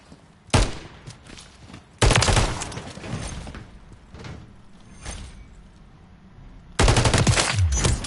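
Light machine gun bursts in Call of Duty MW3 on PS5, three loud sustained volleys of rapid automatic fire with quieter stretches of game noise and scattered shots between them.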